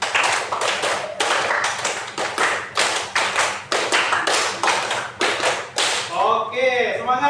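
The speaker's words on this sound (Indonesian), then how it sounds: "Tepuk 5 4 kali." A class claps along to a counted pattern, sharp hand claps in short grouped bursts with brief pauses between sets, fairly close and loud; a few voices and chatter come up at the very end.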